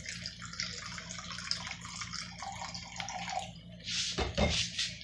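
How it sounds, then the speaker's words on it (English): Cheap vodka, 100 milliliters, pours into a container for a wild lettuce tincture, a soft continuous liquid trickle that swells into a louder splashing gush near the end, close and without talk. "we're going to add 100 milliliters of vodka"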